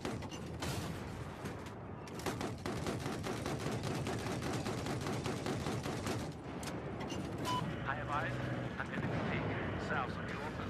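Dense, continuous Battlefield 4 combat din of tank cannon blasts and rattling gunfire, loud and sustained throughout, with someone talking over parts of it.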